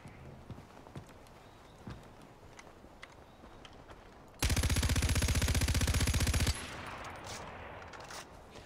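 A big machine gun in Far Cry 4 fires one sustained, rapid burst of about two seconds, loud and close, after scattered quieter shots and footsteps.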